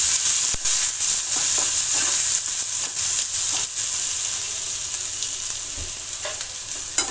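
Onion sautéing in a pan with cumin and asafoetida for masala oats, a loud dense hissing sizzle that slowly eases, broken by soft stirring scrapes, no voices.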